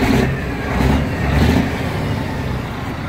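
An International truck engine running close by, a low steady rumble that swells in two brief revs before settling back to idle.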